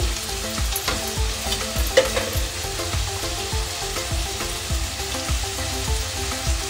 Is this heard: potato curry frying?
yes